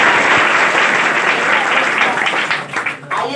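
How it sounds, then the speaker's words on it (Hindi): An audience applauds a class-10 topper student at a school branch event, with dense, loud clapping that holds steady, then thins and tapers off toward the end while a voice speaks over it. "IAS ऑफिसर, जोरदार ताली बजाइए।"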